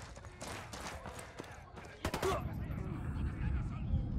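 Fast automatic gunfire from Ghost Recon Wildlands comes in quick bursts, with a sharp loud volley in the middle followed by quieter scattered shots and some voices under the action.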